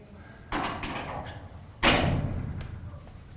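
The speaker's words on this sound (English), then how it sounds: "Close the door" An indoor door closes in two firm thuds, the second louder slam rattling briefly, close by in a quiet room.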